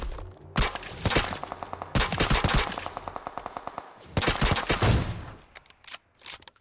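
Bursts of rapid automatic gunfire from the video game PUBG Mobile rattle in long volleys, separated by brief pauses, loud and close with a slight echo.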